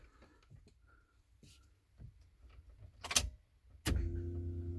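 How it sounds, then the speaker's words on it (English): In a Ford with a Coyote engine swap and a Ford Racing control pack, the ignition is switched on: a few soft clicks, a sharp click, then a steady electric hum that starts and keeps going. "I'll turn the ignition on."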